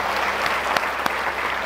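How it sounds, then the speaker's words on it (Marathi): An audience at a lecture gives sustained applause for the organisers. The clapping is continuous and fairly loud, with a couple of sharper individual claps standing out. "एकदा जोरदार टाळ्या वाजवूया."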